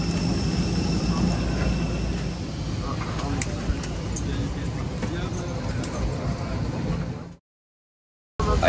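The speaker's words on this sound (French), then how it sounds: "Allez, ça y est, on est dans l'avion." Dense, steady low rumble of an airliner cabin with engine drone and hiss, a few faint clicks on top, continuous for about seven seconds before dropping to silence and returning briefly at the end.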